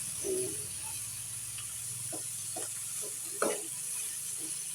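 Quiet, steady sizzle of corned beef and egg sautéing in a pan, with a soft hiss throughout and a few faint clinks and scrapes of stirring.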